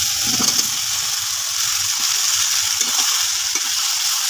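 Fried potato, pointed gourd and shrimp frying in spice paste, a loud, continuous sizzle with soft scraping and stirring underneath, with no talking.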